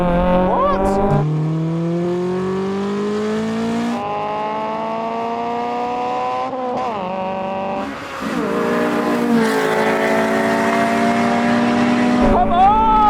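Supercharged cars launch in a rolling drag race, engines roaring loudly with rising supercharger whine that climbs through several gear shifts, staying close and continuous throughout.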